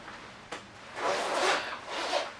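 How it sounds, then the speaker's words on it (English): A jacket zipper is pulled up in one smooth, close rasping stroke after a brief initial click, with a short second pass at the end and no talk. "let me just zip it up again to show you guys"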